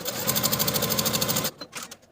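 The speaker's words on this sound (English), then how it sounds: "Sew your center back facing seam with a 5/8 inch seam allowance" A sewing machine stitches the center back facing seam of a bias-cut jacket in a fast, even rhythmic whir for about a second and a half, then stops, leaving a few softer taps.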